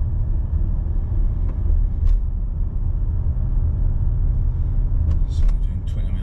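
Range Rover engine with a failed MAP sensor labouring uphill at low speed, a steady close rumbling drone running throughout with no clear revving, a few faint light knocks over the top.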